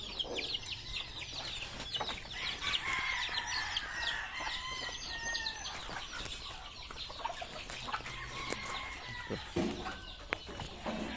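Breeder chickens on a backyard farm cluck continuously, with rooster crows rising through the busy, overlapping calls, moderately close and with no talk.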